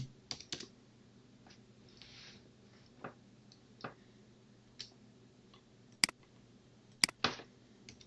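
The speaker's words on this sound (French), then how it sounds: "Je tape le mot de passe que j'ai enregistré pour Titi." Sparse keystrokes on a computer keyboard as a password is typed, a dozen or so soft clicks in an irregular rhythm with a few sharper, louder taps, in a quiet room with low hum.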